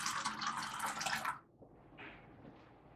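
Tap water is poured from a container in a brief, bright splashing stream that stops after about a second, leaving a faint trickle and quiet drips.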